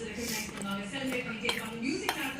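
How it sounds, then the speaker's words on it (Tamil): A spoon or whisk knocks and scrapes against a bowl while eggless cake batter is mixed, giving light irregular clinks and clatters up close, with faint voice-like sound in the background. "நல்லா மிக்ஸ் பண்ணிகிட்டே இருக்கேன்"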